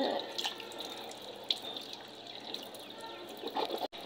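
A bathroom tap runs steadily into a basin while a face is washed, giving a constant close hiss of flowing water with small splashes and drips and no speech.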